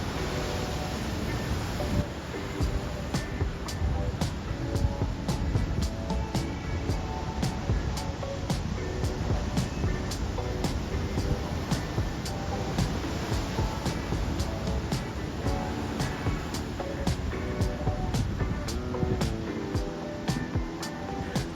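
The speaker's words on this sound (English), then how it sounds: "It's always a highlight to see the waves crash into the jagged cliffs in the park." Ocean waves crash against the jagged cliffs at Shore Acres State Park in Oregon during a stormy winter, a steady, broad roar of surf with wind buffeting the microphone in frequent soft bumps throughout.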